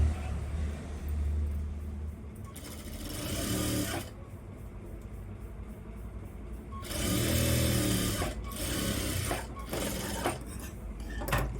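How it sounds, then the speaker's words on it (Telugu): A sewing machine stitches folded pant fabric in several fast, whirring bursts, two longer runs and a few short ones, loud and close over a steady low background hum. "దీన్ని కూడా ఇలా నీట్గా ఫోల్డ్ చేసుకొని ఒక స్టిచ్ చేసుకోవాలి"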